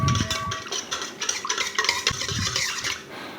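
A spoon stirs yeast, sugar and warm water at about 95 degrees in a bowl while pizza dough is being started, giving a close, steady scraping and swishing with light clinks against the bowl.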